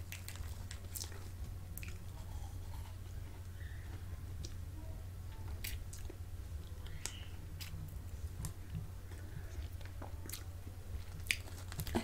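Close-miked chewing and eating of sticky, squelchy pavlova, with soft, moist bites and small clicks scattered over a quiet low hum and no talking.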